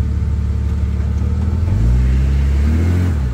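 A Jeep XJ on 33-inch tires with lunchbox lockers revs its engine while backing up, a steady close rumble that swells partway through, with no talk over it.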